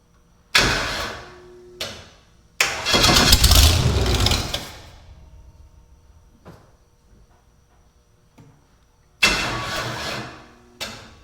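A jet boat engine starting for the first time: several bursts of cranking and rough running that cut out abruptly, separated by quiet pauses, heard loud and close with no talking.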